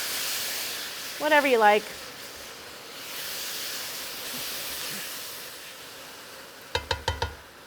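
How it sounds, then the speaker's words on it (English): A pan of bananas in caramel is deglazed with a couple ounces of spiced rum, giving a steady, soft sizzling hiss throughout, with brief talk near the start and the end. "Now we're going to deglaze the pan with a couple ounces of spiced rum"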